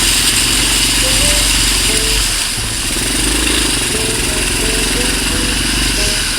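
A motorcycle engine running steadily while riding through flood water after heavy overnight rain, the motor loud and close with a rough, throbbing idle-like drone and water noise underneath, brief dip midway.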